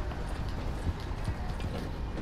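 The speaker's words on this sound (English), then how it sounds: "Oh, no, my horse!" Horse hooves clip-clop steadily at a trot in Red Dead Redemption 2, a continuous patter of hoofbeats heard up close with background game noise for a couple of seconds.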